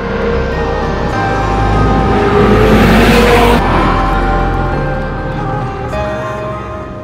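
An Audi 8Y RS3 hot hatch on the move gives a loud, continuous engine drone with road and wind roar that swells to a peak midway and then eases slightly, with no talking.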